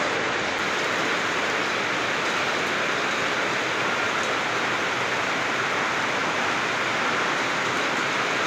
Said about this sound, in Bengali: হঠাৎ করে ঝড় বৃষ্টি নিয়ে আসলো, খুব বৃষ্টি নিয়ে আসলো